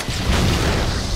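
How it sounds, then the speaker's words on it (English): A grenade explodes in Halo 2 Anniversary, a steady, loud, broadband boom that fills the whole moment, dense and rumbling, with no voices over it. "watch out, I'm throwing a grenade"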